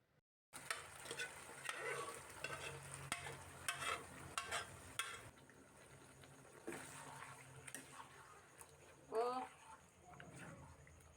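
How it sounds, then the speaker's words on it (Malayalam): Cooked beef tipped from a pressure cooker into a pan of frying onions and curry leaves and stirred, with scraping and a sizzle under a low voice, then quieter stirring and a brief bright clatter near the end. "ഇനി നമ്മൾ വേവിച്ച് വെച്ചിട്ടുള്ള ബീഫ് കുക്കറിൽ നിന്നും ഇതിലേക്ക് ഇട്ടെടുക്കാം."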